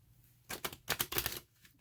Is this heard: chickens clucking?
no